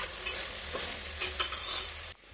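Vegetable curry being stirred in a pan after chili powder, turmeric and salt go in: a steady close sizzle with scraping strokes of the spoon that swell and then cut off abruptly near the end, no voices.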